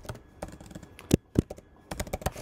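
Someone types JavaScript code on a computer keyboard at close range: irregular bursts of crisp key clicks with a couple of louder, heavier keystrokes between them.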